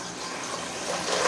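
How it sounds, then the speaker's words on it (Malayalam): Water is poured steadily into a cooking vessel in a home kitchen, a continuous rushing splash that grows slightly louder toward the end, with no voices. "വെള്ളം എടുത്ത് ഇതിനകത്തോട്ട് ഒഴിച്ചിട്ട്"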